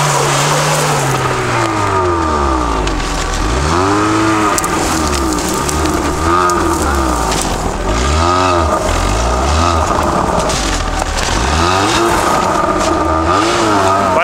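An off-road vehicle on a budget SUV test, one of a Niva, UAZ Patriot, Volkswagen Touareg or UAZ Hunter, spins a wheel on snow: a loud, steady engine roar with repeated rising and falling revs and whining wheelspin throughout, close by.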